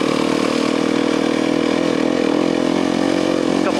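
Honda CRF250RX race dirt bike engine running loud and close on a trail ride, a steady buzzing single-cylinder drone with slight rises and dips in pitch throughout.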